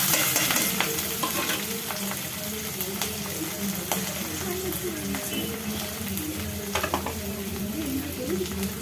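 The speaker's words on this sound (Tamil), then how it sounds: "இப்போ இதை நல்லா வதக்கிக்கலாம்." Chopped onions, green chillies and ginger sizzle and crackle steadily in a hot pan, with scattered stirring scrapes throughout; no one speaks.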